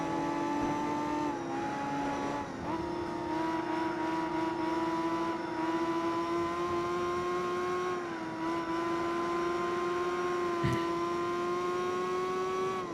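A race car in Gran Turismo 4 accelerating hard on nitrous, its engine holding a strained, steady high whine that barely climbs, with a sharp tire chirp near the end, loud and unbroken.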